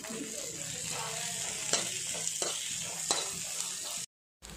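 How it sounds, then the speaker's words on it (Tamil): Capsicum frying in a pan with onion and garlic for veg pasta makes a close, constant sizzle with occasional stirring clicks, then drops to a brief silence at the end. "கேப்சிகம் நல்லா ஃப்ரை ஆகிடுச்சு."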